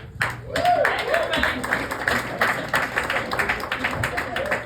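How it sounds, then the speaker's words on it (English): Applause from an audience at a free show held during a snowstorm, with dense clapping and a few voices mixed in, sustained at a steady level throughout. "big round of applause"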